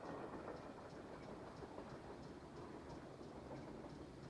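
A train rolls along in a Nancy Drew adventure game set on a railway bound for Blue Moon Canyon, its steady low rumble and rhythmic clatter continuing evenly throughout without any voices.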